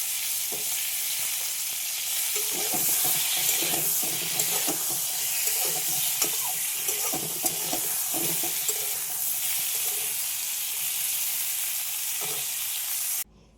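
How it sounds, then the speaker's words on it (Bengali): Nigella seeds tempering in hot oil, a steady dense sizzle and hiss that runs unbroken, with soft scrapes of stirring scattered through it. It stays fairly loud and close until it cuts off abruptly at the end. "অল্প একটু কালো জিরা ফোড়ন দিয়ে দিচ্ছি একেবারেই"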